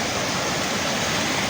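Storm floodwater in Kashmir rushes out of its channel and spreads into farm fields, a steady, loud, broadband roar of churning water that holds unbroken throughout.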